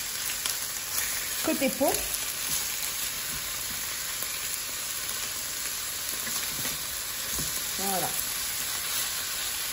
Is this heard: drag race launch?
no